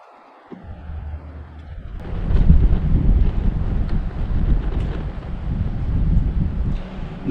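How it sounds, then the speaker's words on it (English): Wind blows outdoors around burning fire plugs, starting quiet, then buffeting the microphone as a loud, rumbling, gusty roar that keeps on to the end, with no talking. "That wind is trying to blow them out."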